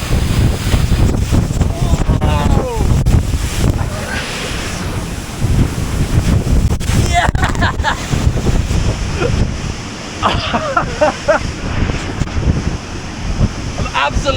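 The Gitgit waterfall in North Bali roars loud and close as a continuous broad rush, with wind buffeting the microphone and short bursts of voices over the thunder of the water.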